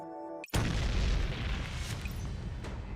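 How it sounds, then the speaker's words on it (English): A sudden loud explosion in the video game Neural Cloud bursts in after a brief moment of tonal music, followed by a long, rumbling roar that slowly fades, with no talk. "interrupted by a sudden explosion"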